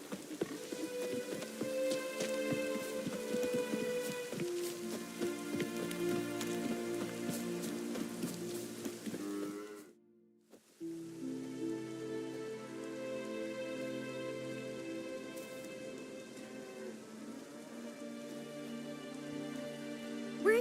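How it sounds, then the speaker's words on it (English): Heavy, steady rain pours down continuously in the video game The Witcher 3, dropping out briefly for a moment before resuming just as dense. "Raining fucking buckets."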